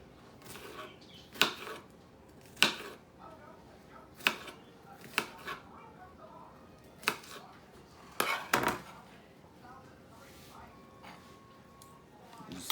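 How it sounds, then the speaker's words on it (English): A knife dices food on a cutting board for homemade stew, giving a series of sharp, irregular chops spaced a second or two apart, fairly close and clear against a quiet kitchen background. "Want some pretty fine pieces when you're dicing it up."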